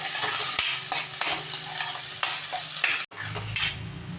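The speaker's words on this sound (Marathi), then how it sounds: "आता आपण ह्याला तेल सुटेपर्यंत मसाला तळून घेणार आहोत" Masala spices fry in hot oil in a pan, giving a steady sizzle broken by repeated stirring scrapes and the odd clink of a metal spoon, with a brief silent cut near the end.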